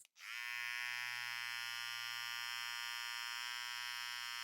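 T-Shaper rechargeable hair clippers with a 7,000 to 8,000 RPM motor switch on with a click and then hold a steady, close, buzzing whine for several seconds.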